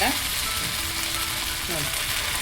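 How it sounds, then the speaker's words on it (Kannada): Small portions of batter dropped into hot oil in a pan sizzle with a steady, dense hiss, close and continuous through a short stretch in a North Karnataka home kitchen. "ಎಣ್ಣೆ ಚೆನ್ನಾಗಿ ಕಾದಿದೆ. ಇವಾಗ ಸಣ್ಣ ಸಣ್ಣದಾಗಿ ಬಿಟ್ಕೊಳ್ಳೋಣ."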